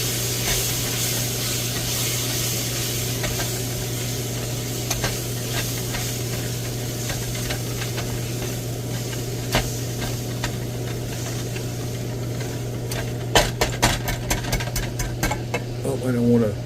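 Chopped vegetables for a gumbo sizzle steadily in a hot pot, a continuous frying hiss throughout, with occasional stirring clatter near the end.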